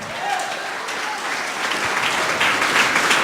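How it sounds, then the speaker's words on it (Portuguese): Steady crowd applause at a church service filling the space, dense and sustained, growing slightly louder toward the end with a few faint voices mixed in. "Aplauda ao Rei, que Ele é digno."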